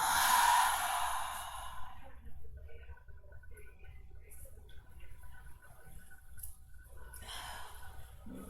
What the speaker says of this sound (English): So a big giant inhale, nice full exhale.